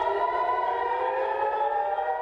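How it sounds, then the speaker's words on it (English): A wailing air raid siren drones steadily in the distance over northern Israel during an Iranian missile attack, a sustained layered tone holding without pause. "Sirens sound over northern Israel"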